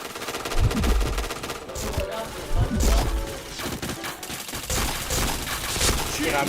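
Rapid bursts of gunfire from the Point Blank video game, dense and continuous across the stretch with strong low thumps, mixed with busy game noise and some voice in the background.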